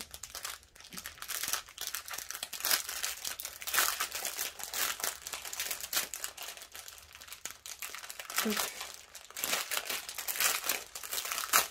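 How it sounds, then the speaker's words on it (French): Someone opens a plastic bag holding a DIYCHOOSE kit, and it crinkles and crumples up close in continuous bursts for several seconds, with no voices. "attention les oreilles, je vais ouvrir le sac"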